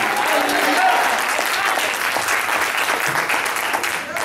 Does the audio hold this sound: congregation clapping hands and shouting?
yes